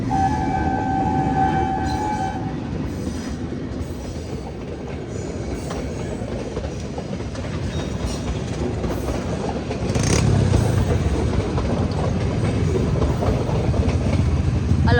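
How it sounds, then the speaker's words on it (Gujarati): A train rumbles past a railway level crossing steadily throughout, wheels clattering rhythmically on the rails, with a few thin high squeals early on; no talking. "ટ્રેન આવી ગઈ છે"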